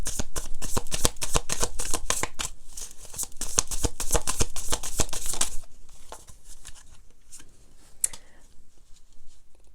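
Tarot cards are shuffled for a reading in quick, dense riffling bursts for about five seconds, then lighter scattered flicks and taps of the cards.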